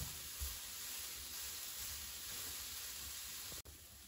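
Broccoli sautéing in a pan over medium-high heat gives off a faint, steady hiss of sizzling that runs evenly throughout with no talking.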